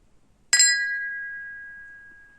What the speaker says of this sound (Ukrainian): пара це вже склянки кришталеві, важкі такі стакани з неймовірної краси